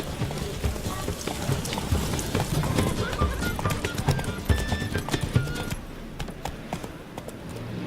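Roach the horse gallops in The Witcher 3: Wild Hunt, a quick steady clip-clop of hooves close by with a brief whinny, while voices talk over the running hooves.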